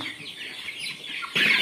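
Chickens at a desi poultry farm, short clucks and rustling close by, ending in a sudden louder burst of squawking or wing flapping.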